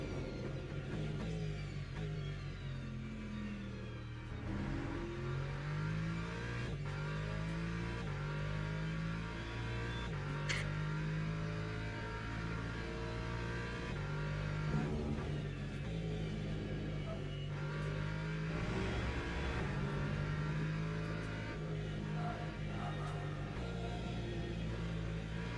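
Onboard race car engine at the Fuji circuit, a steady loud drone rising and falling with repeated upshifts and downshifts through corners, continuous throughout with faint commentary underneath.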